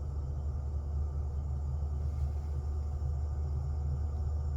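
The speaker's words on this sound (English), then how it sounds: "what to me sounds like the car sucking in air" Steady low rumbling whoosh of air being drawn in by the climate fans inside a 2022 Tesla Model 3 Long Range, a continuous even hum heard from the cabin with no talking.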